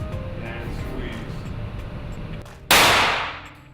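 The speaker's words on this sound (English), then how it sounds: "This is a big gun." A single sharp, loud blast from a big gun cracks out after a stretch of low background noise, its sudden burst fading over about a second.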